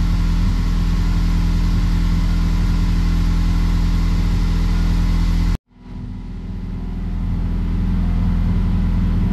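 An Ecoboost-swapped Foxbody running a new tune and ECU idles loudly with a steady low drone, cuts out abruptly, then restarts and settles back into a rising idle.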